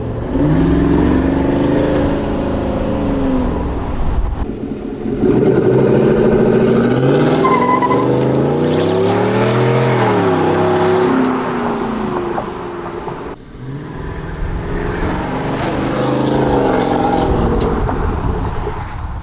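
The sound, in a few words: V8 pickup truck sport exhaust revving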